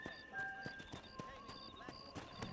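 Horse hooves clip-clopping in the video game Red Dead Redemption, a black horse being hitched, with a few soft irregular steps under game music and a voice talking.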